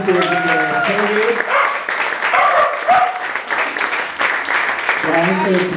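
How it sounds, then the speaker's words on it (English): Festival participants cheer survey respondents at a Pride parade event, with clapping mixed under prominent voices, shouts and talk throughout. "Big round of applause for everyone who was in the survey."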